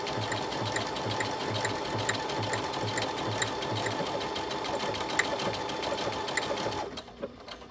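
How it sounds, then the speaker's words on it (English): A Baby Lock sewing machine stitches a buttonhole at high speed, a loud, close, rapid rhythmic whirring and ticking that runs steadily, then stops abruptly near the end. "I'm going to speed the machine up."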